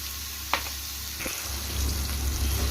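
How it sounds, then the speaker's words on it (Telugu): Ground ginger and green chilli chutney hits a hot, sizzling tempering in a pan, giving a couple of sharp crackles and then a steady, close frying hiss that builds toward the end. "నేను గ్రైండ్ చేసుకున్న పచ్చడి మొత్తం ఇందులో వేసుకోవాలా"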